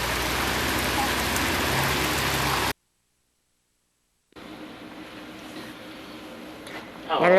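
Rain falls steadily around a boat in Florida, a broad hissing patter that cuts out briefly to silence and then resumes more softly, with voices faintly present.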